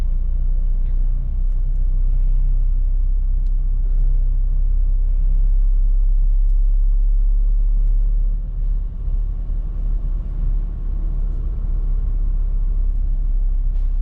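A car moves slowly with light, steady pressure on the accelerator while someone learns to drive, giving a constant low engine rumble heard close from inside the cabin without any revving. No one speaks.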